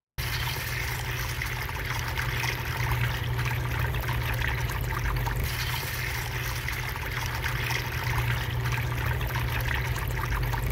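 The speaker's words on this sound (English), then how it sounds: "pay close attention to the flow of the water in this demonstration" Water flows steadily around a fluid dynamics model container in an unbroken wash of trickling, pouring sound that stays moderately loud and even for about ten seconds, with no voices.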